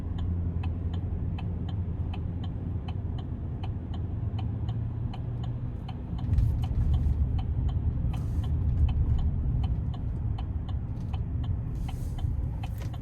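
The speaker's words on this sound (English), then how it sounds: "Gonna try to give it a good pull getting on the interstate here" Chevrolet Silverado 2500HD Custom Z71 pickup accelerating hard onto an interstate, a steady low engine drone under road and cabin noise that swells midway through the pull, with a faint regular ticking throughout.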